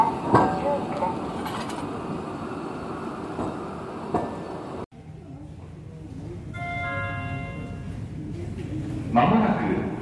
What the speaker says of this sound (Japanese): 電車が通過します、ご注意ください。